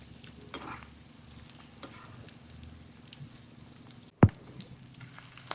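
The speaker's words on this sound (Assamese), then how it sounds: "এতিয়া আমি 5 মিনিট মান লৰাই আছো বাঁহগাজ আৰু জলকীয়া মান ধনিয়া দি।" Pork with bamboo shoot and chillies is stirred in a pan, giving a soft, continuous sizzle with occasional light scrapes and one sharp knock near the end, quiet and close.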